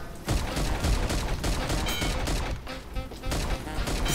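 Rapid bursts of gunfire from the Karlson video game, dense and loud, firing almost continuously for several seconds with sharp repeated cracks over a busy game soundscape.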